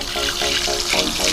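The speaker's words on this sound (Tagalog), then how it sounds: "Flowing lang sila tubig galing sa bundok." Clear stream water flowing down from a mountain, a close, continuous rushing trickle with a voice speaking faintly over it.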